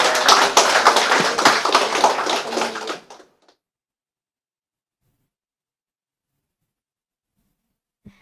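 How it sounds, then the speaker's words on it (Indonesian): A crowd claps again at a university engineering oath ceremony, a loud, dense round of applause lasting about three seconds before stopping abruptly, followed by long silence and a faint knock near the end. "Mari tepuk tangan sekali lagi."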